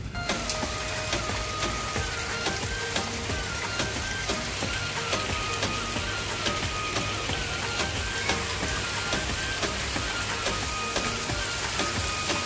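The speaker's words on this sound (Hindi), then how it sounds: "दो तीन दिन से लगातार बारिश हो रही है और अभी भी बारिश फिर से स्टार्ट" Steady rain patters on surfaces in Aya Nagar, Delhi, with scattered sharper drips and a faint passing vehicle underneath, no voices.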